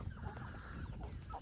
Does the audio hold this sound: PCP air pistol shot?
no